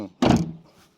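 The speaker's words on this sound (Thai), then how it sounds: "เสียงประตู ดัง" The door of a 2011 Toyota Vigo open-cab pickup truck shuts with one loud, solid thunk close by, then a short fading rattle.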